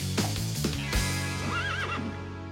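A cartoon horse gives a loud, close neigh, a wavering whinny following a few hoof-like thumps over a musical backing.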